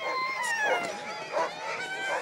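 Sled dogs at a breeding kennel in the Jura, several dogs barking, yipping and howling together in a continuous overlapping chorus at moderate distance.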